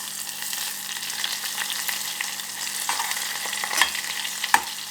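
Chopped dates frying in hot oil in a pan, a steady soft sizzle with occasional stirring scrapes and a few louder clinks, no voice.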